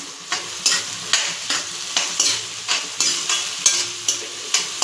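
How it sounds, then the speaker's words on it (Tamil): Onions sautéing in a pan for country chicken pepper gravy, a sizzling bed broken by about a dozen regular spatula scrapes in a steady stirring rhythm, close and clear. "இதை நல்லா வதக்கி விட்டுக்கலாம்"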